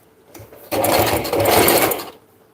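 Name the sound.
sewing machine stitching inseams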